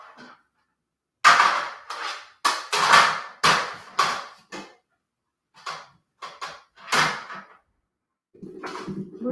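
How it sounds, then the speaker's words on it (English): A metal cookie sheet crashes onto a computer keyboard on a craft table, giving a close burst of sharp clanks and rattles that settle into scattered lighter knocks, with a low thump near the end. "That sound was a cookie sheet hitting my keyboard."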